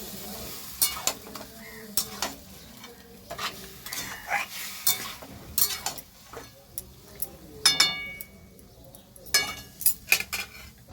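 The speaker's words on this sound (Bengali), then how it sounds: "এবার আমি এটা নেড়ে দেব" A spoon scrapes and stirs chicken handi in a pot, giving irregular clinks and scrapes over a low simmering sizzle, close and moderately loud with no voice.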